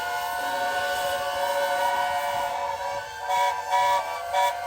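Several whistles go off together, making sustained shrill tones that overlap in a steady, continuous chorus. A faint low rumble runs underneath, and a few brighter bursts come toward the end.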